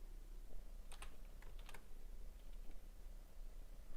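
Password typed on a computer keyboard, a short burst of light, quick key clicks in two small clusters, close and fairly quiet over a faint room hum.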